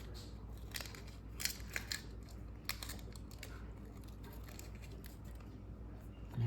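Scissors snipping through material while customising a plant pot cover, a few quiet crisp cuts clustered in short bursts over faint background noise.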